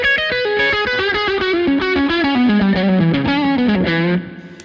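Distorted electric guitar played through a copper-voiced Victory speaker cabinet simulation from Two Notes, a run of chugging, overdriven chords and notes that rings steadily for about four seconds before cutting off, with no voices.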